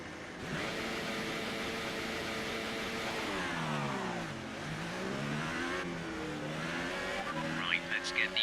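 A Formula 1 car screams around the Chinese Grand Prix track in F1 2018, its engine wailing continuously with pitch dips and climbs through gears, a voice talking over it.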